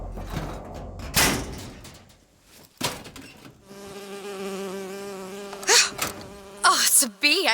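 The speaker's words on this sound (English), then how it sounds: "It's a bee. I hate these things." A bee buzzes in BioShock Infinite with a sustained, wavering drone, close and fairly loud, after a few sharp thuds, with brief high spikes near the end.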